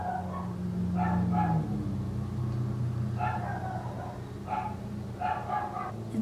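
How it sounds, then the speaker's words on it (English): Several dogs bark in short bursts at a moderate distance over a low steady hum, with a few yips spaced through the stretch. "Dogs."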